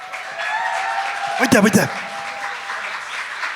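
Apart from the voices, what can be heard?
audience applause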